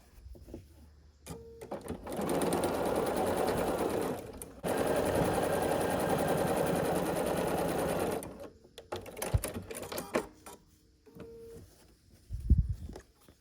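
A sewing machine runs in two long bursts as it stitches a quilt strip with a quarter-inch seam, a fast steady rattling whir close by, with pauses and light handling clicks around it and no talk.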